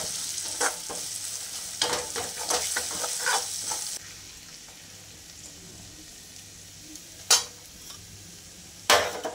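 Cooked red pigeon peas with chili powder are sautéed in a pan, giving a steady close sizzle broken by repeated scraping stirs of a spoon, then a quieter stretch with two sharp clinks near the end.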